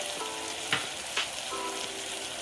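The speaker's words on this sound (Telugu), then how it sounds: "మిల్ మేకర్ ఇవన్నీ కూడా వేసుకుని ఒకసారి ఇలా వేపుకుందాం." Moong dal, mint and other ingredients for khichdi sizzle in a pan, a soft steady frying hiss broken by a couple of light clicks of stirring.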